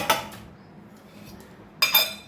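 A metal spoon clinks twice against a dish while ghee is added to gongura chilli powder. The sharp close clinks are separated by a quiet pause.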